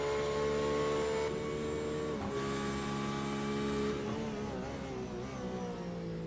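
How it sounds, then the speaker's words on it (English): A Porsche GT race car engine whines steadily at high revs, then drops pitch in a few stepped downshifts, a sustained harmonic drone heard from a fairly close onboard position. "We get the Porsche downshifts down into turn 4 and 5, coming out into turns 6 and 7."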